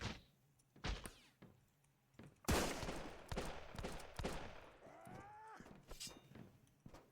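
Bursts of gunfire in the survival game Sunkenland, several sharp shots spaced irregularly, then a rapid cluster of firing with ringing tails, loud and close.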